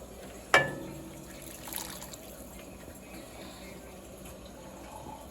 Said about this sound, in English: I'm going to add some more hot water